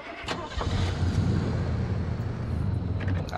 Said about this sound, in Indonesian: Nyalain mesin.